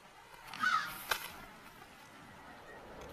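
A single crow caws faintly in the distance outdoors, a brief harsh call over quiet ambient background.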